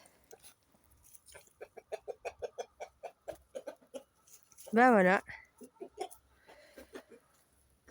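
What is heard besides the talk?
rooster clucking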